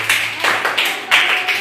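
A few short bursts of hand clapping in a coding class, three or four close, loud rounds of claps from a small group, with no speech over them.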